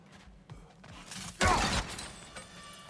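Smashing in the video game God of War Ragnarök: a single brief, bright shatter of breaking objects with a scattering of debris, set among softer clanks and faint game ambience.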